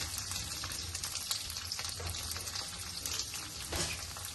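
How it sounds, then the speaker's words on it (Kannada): Garlic, ginger, green chillies and onions frying in a pan for cream of spinach soup, giving a steady close sizzling hiss with soft crackles and occasional stirring scrapes, moderately quiet and without talk. "ಇದಿಷ್ಟು ಇವಾಗ ಫ್ರೈ ಮಾಡ್ಕೊಳ್ಳೋಣ"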